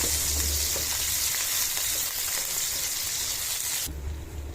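Chopped onions frying in hot oil for breakfast pasta, making a loud, dense, steady sizzle close by that fades a little and then drops away sharply near the end, with no talking.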